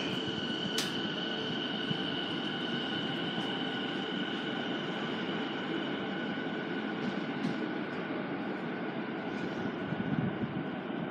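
E217 series train departing a platform at Shinagawa Station, a steady rumbling roll with faint high tonal whines and a short squeal, continuous through the moment without voices.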